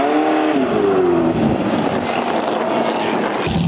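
A Ford GT40 engine in a racing video game drones loud and steady, its pitch sweeping up and then settling into a sustained roar that runs for the whole stretch without any talk.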